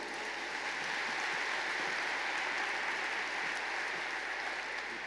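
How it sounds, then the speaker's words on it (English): A large audience at a 2018 graduation ceremony at IHE Delft applauds in a dense, even wash of clapping that holds at a steady loudness from start to finish. "A round of applause for all of you."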